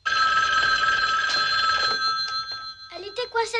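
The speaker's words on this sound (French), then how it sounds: "Les téléphones sont tellement bruyants." A loud telephone bell rings in a continuous metallic trill for about two seconds, then stops as a voice begins speaking.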